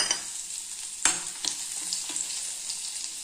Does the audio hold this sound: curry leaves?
yes